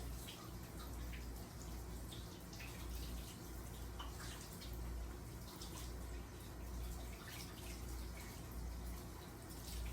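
Tap water runs continuously into a sink during hand and arm washing in a lab setting, a steady splashing stream with scattered drips and brighter splashes, heard alone without talk.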